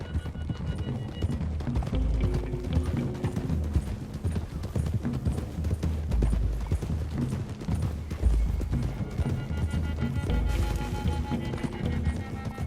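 Several horses gallop steadily in the video game Red Dead Redemption 2, hooves pounding in a fast, continuous rhythm, with an occasional whinny.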